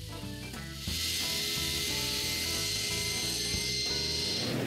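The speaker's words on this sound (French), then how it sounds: "Je remets la lame droite et je coupe les deux petits bouts de l'avant." A saw blade cutting two small pieces of wood for a convertible dresser, giving a loud steady high whine with a harmonic hum beneath, starting abruptly and running continuously.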